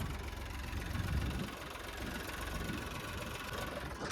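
A small tractor engine runs steadily at a low, even idle, with a faint knocking throb throughout and no voices.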